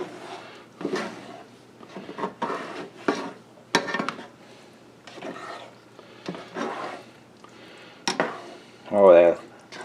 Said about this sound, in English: I'm going to scrape the bottom of the pan